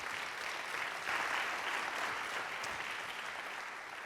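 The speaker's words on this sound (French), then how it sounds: "on peut les applaudir aussi" Steady audience applause at a conference session, a dense, even wash of many hands clapping at once that holds constant without a break for about four seconds, with no voices breaking through.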